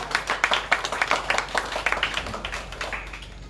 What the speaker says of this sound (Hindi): ताली बजा के आमीन, धन्यवाद करें।